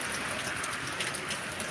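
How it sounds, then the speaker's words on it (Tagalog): Steady rain falling during an outdoor walk, a dense, even hiss of drops with faint pattering on surfaces nearby and no talking. "Ano, Sislo, hanggang Friday daw ang ulan dito."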